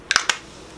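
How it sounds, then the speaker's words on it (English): Tatcha Luminous setting spray mists onto a makeup brush in three quick, close hissing spritzes, the first two nearly merged, followed by quiet. "I'm going to spray it with Tatcha"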